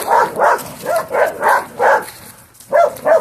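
A dog barks close by in a quick rhythmic run of about eight loud barks with a short pause before the last two.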